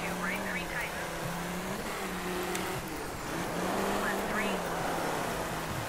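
A Volkswagen Touareg racing over mountain terrain in the DiRT 3 video game, its engine droning steadily with the pitch rising and falling through gear changes, continuous and close throughout.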